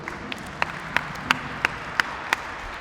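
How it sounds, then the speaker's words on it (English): Applause at a ring ceremony for a girls' basketball championship team, heard as sparse, evenly spaced claps from a small group in a large room, no talking. "I want to give it a round of applause for the families that supported the"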